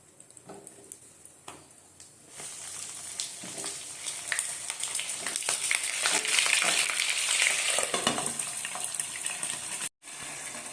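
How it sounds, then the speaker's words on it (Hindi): Pointed gourd (parwal) frying in hot oil in a kadai, a steady crackling sizzle that swells louder through the middle, cuts out briefly near the end, then resumes. "फास्ट आम कड़ाई रे तेल गरम करी पोटल को फ्राए कर नबा।"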